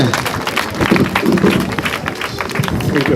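Applause for the chief at the commissioning of two new classrooms at Nandi Primary, a steady crowd clapping throughout with voices mixed in.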